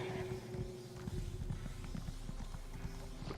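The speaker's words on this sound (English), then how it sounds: "All you got is this mind-shriven horse." Horse hooves clip-clop at a walking pace in the video game Elder Scrolls Online: Morrowind, a rhythmic string of soft close steps over a low ambient game drone.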